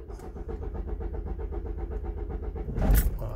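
A diesel car with a Delphi injection pump and 111,000 km cranks with a steady rhythmic churn, then catches with a louder burst near the end, close up with no talk.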